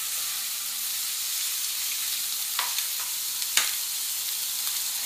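Eggs frying in a hot pan with sausage and vegetable hash give a steady, close sizzle, broken by a few sharp crackles and pops near the end.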